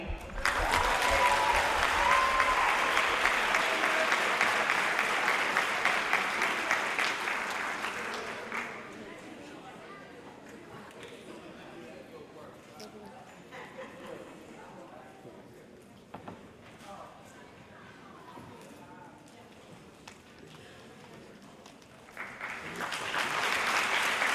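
Applause for science award recipients at an 8th grade moving up ceremony, a loud sustained crowd clapping that fades after about nine seconds into quieter room noise before clapping swells again at the end.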